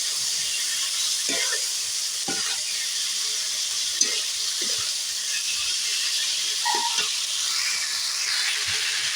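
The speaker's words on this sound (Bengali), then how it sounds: "এটাকে ভেজে নেবো এই আলুর সঙ্গে বেশ খানিক্ষণ আমি নাড়তে থাকবো" Cumin, ginger, coriander, fennel, chilli powder and turmeric fry with potatoes in a pan, giving a steady sizzle with occasional scraping stirs, close and alone.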